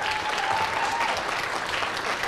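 An audience at an eighth-grade poetry slam applauds in a steady, dense wash of clapping that stays even and moderately loud for a couple of seconds, with no voices standing out.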